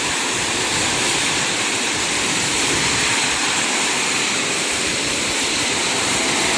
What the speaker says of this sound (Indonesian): Hujannya sangat lumayan deras nih.